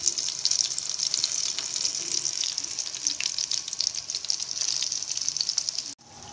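Fish pieces coated in homemade masala fry in a pan with a loud, continuous crackling sizzle and bright spitting oil. The sound cuts off abruptly near the end.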